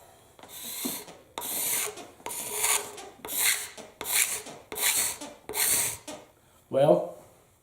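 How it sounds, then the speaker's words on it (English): Freshly sharpened steel card scraper drawn across wood, seven rhythmic rasping strokes about a second apart, each with a bright scraping hiss, followed by one shorter tonal scrape. "That's a good sharp card scraper."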